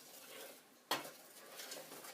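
Butter melts in a pot on a stove at medium-high heat while a utensil stirs it. Soft scraping is followed by one sharp clink of metal on the pot and then quiet stirring scrapes.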